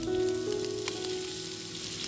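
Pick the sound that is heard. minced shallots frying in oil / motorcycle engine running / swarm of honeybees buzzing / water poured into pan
minced shallots frying in oil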